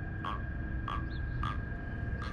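A small catfish like a mini flathead croaks in short, evenly spaced chirps, four in quick succession, faint over steady low outdoor background noise on a tidal river.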